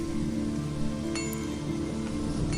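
Steady rain falls in the fantasy role-playing game Chronicles of Myrtana: Archolos, a constant even hiss of drops on surfaces with faint game tones beneath, no voices.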